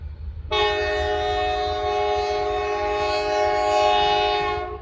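A Norfolk Southern freight train with boxcars sounds its horn as it passes, a loud sustained blast held steadily for several seconds over low rumble, with no talk.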